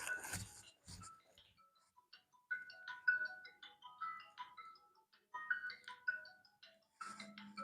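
A phone ringtone plays a faint electronic melody of repeated beeping notes in a quiet room, with a short burst of noise at the start and near the end.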